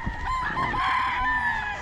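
Chickens and stags cluck and crow close by at a farm, a rooster's crow rising over steady fowl chatter for the short stretch.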